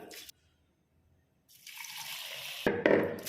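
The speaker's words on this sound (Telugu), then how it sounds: "ఇలా తీసుకున్నటువంటి గోధుమల్లో వాటర్ పోసి వాటికి రెండు సార్లు మంచిగా కడగాలి" Wheat grains being washed in water by hand, with splashing and running water coming in a brief burst at the start, then after a quiet pause rising again into steadier sloshing and pouring close by.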